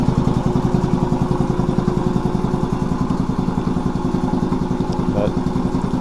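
A Quincy 310 air compressor with an intercooler runs steadily nearby, a loud, fast, even thumping pulse with a low mechanical drone that keeps going without a break, not working hard.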